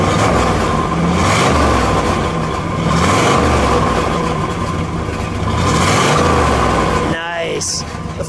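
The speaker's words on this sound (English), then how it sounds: "Go ahead, give it a rev." A 1966 Pontiac GTO with a 389 cubic-inch V8 and four-speed revs loudly up close, rising and falling in a couple of strong swells over a rough idle, with a voice speaking briefly near the end.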